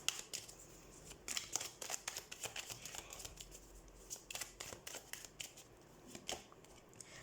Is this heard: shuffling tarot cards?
yes